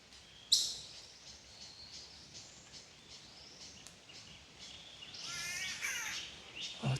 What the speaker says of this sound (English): Oh, it's a catbird.